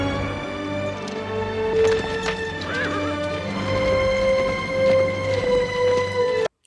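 A horse whinnies loudly in a long, drawn-out neigh amid hoof clip-clop and battlefield ambience in the Civil War film Glory, the cry rising and falling over several seconds before cutting off abruptly.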